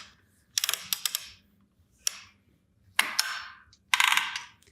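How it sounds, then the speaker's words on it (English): A quilting frame's ratchet clicks as the fabric is rolled, giving four short bursts of rapid mechanical clicking separated by pauses, close and clear with no talk. "I'm going to roll just a tiny bit because I only have a little bit left for this small piece."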